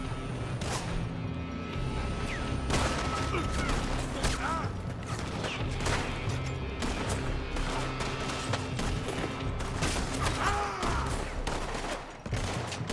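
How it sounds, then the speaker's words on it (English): Gunfire pouring from a building in Red Dead Redemption 2, a sustained fusillade of sharp shots and ricochets layered over ambient game noise, loud and irregular throughout with brief lulls. "They're shooting from that building."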